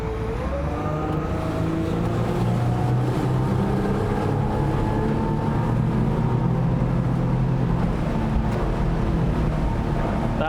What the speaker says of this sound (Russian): сейчас мы произведем обгон стандартного катера 150 лошадиных сил